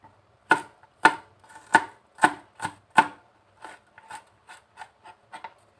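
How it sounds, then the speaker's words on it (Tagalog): Knife chopping garlic and onion on a cutting board in a home kitchen, a dozen crisp, evenly paced strikes, loud and close at first, then lighter and quicker toward the end. "maghihiwa naman tayo ng ating mga bawang, sibuyas."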